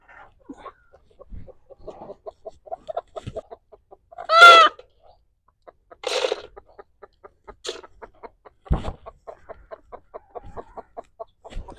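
Hens cluck in a steady run of short, close calls in a village pen shared with rabbits, broken by a few louder, harsher squawks.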